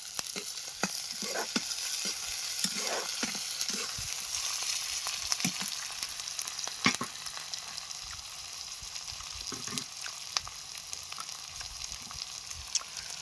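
Chilies and spices frying in a pan, a soft continuous sizzle broken by scattered clinks and scrapes of stirring.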